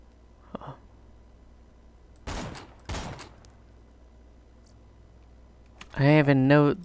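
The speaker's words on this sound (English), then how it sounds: "These grenades are crazy." Grenade explosions in the video game Borderlands 2 sound as two quick, sharp bursts a moment apart after a small pop, over a quiet background, followed by a voice speaking near the end.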